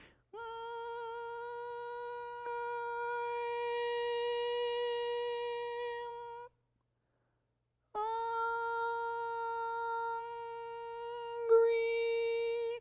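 A person imitating the noise a whale makes during bubble-net feeding: two long, steady, tonal hums, the first about six seconds, then a pause and a second about five seconds, fairly quiet and close with no talking.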